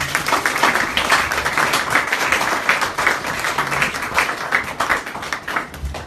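Summit audience applauding a speaker, a continuous crowd of clapping hands with sharp individual claps standing out, steady and fairly loud throughout.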